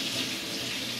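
Tap water running steadily into a kitchen sink while a potato is rinsed, a continuous close splashing rush with no pauses or talk.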